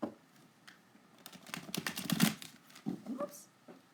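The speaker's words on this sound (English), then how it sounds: "So let me get it shuffled up for us." Tarot deck being shuffled by hand, with a run of quick papery riffles and taps of the cards, close and moderately loud, with brief pauses between bursts.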